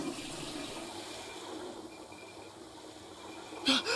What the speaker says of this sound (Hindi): फ्लश तो होके बाहर क्यों आ रहा है